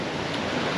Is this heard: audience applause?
no